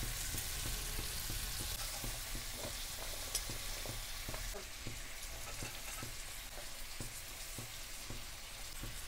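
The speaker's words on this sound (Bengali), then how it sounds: "তেলে লবঙ্গ, ডালচিনি, এলাচ, তেজপাতা দিয়ে দিচ্ছি।" Whole spices such as cloves, cinnamon, cardamom and bay leaf sizzle steadily in hot oil for a mixed chicken rice dish, a dense continuous frying hiss broken by small pops and the occasional scrape of a stirring spoon, with no voices.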